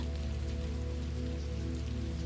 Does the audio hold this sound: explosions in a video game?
no